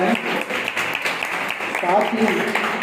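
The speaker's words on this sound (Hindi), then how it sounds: "तालियां बजाएं।" Audience applause at a medal ceremony, broad and steady for the whole stretch, blended with overlapping voices and crowd chatter.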